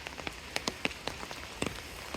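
Light drizzle falls in a rural village, scattered close raindrops ticking and pattering irregularly on a surface over a soft steady rain hiss, quiet and without voices.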